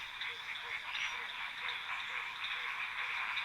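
A chorus of frogs in Madagascar fills the air with a steady high-pitched trilling drone, overlaid by soft, evenly spaced low croaks repeating roughly twice a second, continuous and fairly close with no voices.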